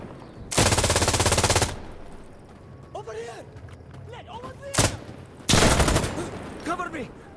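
Automatic gunfire in the video game Insurgency Sandstorm: two long, loud rapid-fire bursts and a short one in between, with voices shouting in the quieter gaps.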